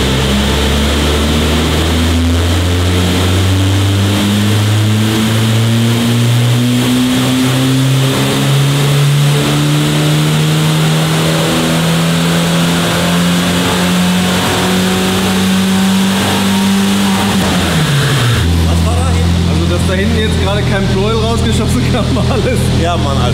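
A French project car's engine revs hard, rising steadily over many seconds toward the rev limiter before dropping abruptly back to a lower drone, loud and close, with voices talking over it.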